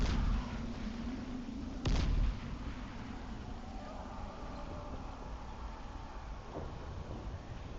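A single grenade blast in the zombie game Dying Light, with the Nightfall mod: one sharp, heavy boom early on over a steady low rumble of ambient noise, with nothing else following.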